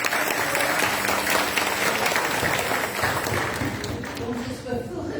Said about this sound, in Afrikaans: gee vir hulle hande klap